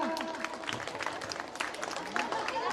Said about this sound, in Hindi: टॉप 6 बॉयज और टॉप 6 गर्ल्स के लिए एक बार जोरदार तालियां